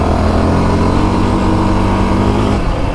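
A stock 2024 Yamaha Raptor 700R SE ATV engine on a break-in ride, roaring loud and close as it accelerates, with a steady dense drone and sustained engine harmonics throughout, no voices.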